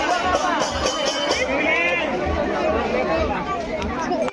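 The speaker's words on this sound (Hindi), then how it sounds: "देखिए भीड़ भाड़ दिखाइए, भीड़ दिखाइए क्योंकि आज संडे है" A Sunday crowd of visitors chatters continuously at the Khandagiri caves, with a dense, close babble of many overlapping voices and occasional louder calls throughout.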